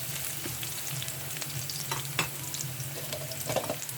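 Chicken liver for adobo sizzles steadily in a hot pan while a utensil stirs it with soft scraping clicks, a constant close frying hiss with no talking.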